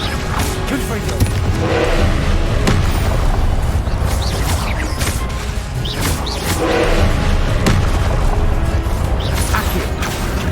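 Repeated Confringo blast-spell explosions in Hogwarts Legacy, a continuous barrage of booming impacts, crashes and crackling debris, loud and dense, with a voice calling out spell names over the combat.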